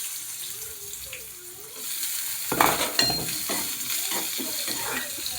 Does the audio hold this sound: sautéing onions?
yes